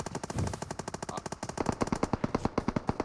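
Rapid automatic gunfire rattles in PUBG Mobile on the Erangel map, with long bursts of evenly spaced shots that grow louder and sharper toward the end.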